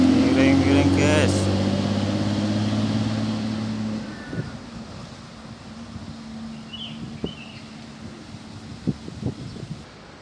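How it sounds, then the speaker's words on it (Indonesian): A small bus pulls away from Mojokerto bus terminal, its engine droning loud and close, then fading into a steady rumble with wind noise and occasional knocks and clatters. "Bus kecil berangkat meninggalkan Terminal Mojokerto."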